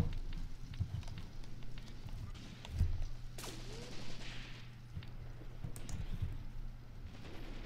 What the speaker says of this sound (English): That machine gun fire is the kind we need.